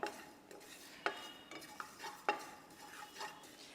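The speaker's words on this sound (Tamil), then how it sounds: "அந்த எள்ளு வந்து வெள்ளையிலேருந்து அப்படியே அந்த பொன்னிறமாக வந்து இப்போ வறுத்துட்ருக்கோம்" Sesame seeds roasting in a pan for pirandai chutney, with soft stirring and scraping and a few sharper clinks of a spatula against the pan, quiet and close with a faint sizzle underneath.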